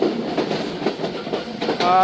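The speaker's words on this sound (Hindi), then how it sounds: "कॉशन के बाद ट्रेन पास हो रही है सांगी रेलवे स्टेशन" The Khyber Mail train passes near Sangi railway station, a loud, close rumble with rhythmic clickety-clack of wheels on rail joints, swelling toward the end as a brief high whistle-like tone sounds.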